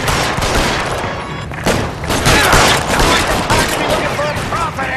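Gunfire breaks out in a shootout with police at Nicholson Electroplating in the LA Noire video game: dense, loud bursts of shots and booms packed together over a shouting voice.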